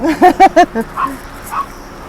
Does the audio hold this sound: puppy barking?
yes